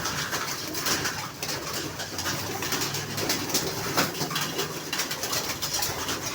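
Racing pigeons and high flyers cooing softly at middle distance, low throaty calls repeating over a steady background hiss, with no talking.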